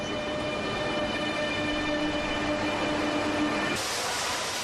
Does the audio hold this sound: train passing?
yes